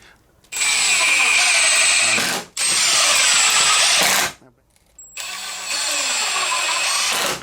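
A power drill drives screws into a DIY moving wall flat for a haunted mansion set, whirring loudly and closely in three sustained bursts separated by brief pauses.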